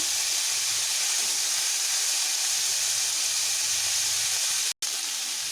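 Figs seasoned with salt and turmeric fry in a pan over medium heat, giving a steady, loud sizzling hiss that runs unbroken for the whole stretch apart from one very brief dropout near the end.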